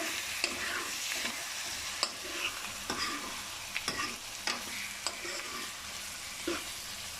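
Ginger-garlic powder sizzles steadily in a hot pan while a utensil scrapes and stirs in irregular strokes, close by with no talking.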